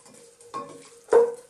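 Fried onion, ginger and garlic being stirred in a pot gives two short bursts of scraping and sizzle, the second louder, with faint frying hiss between.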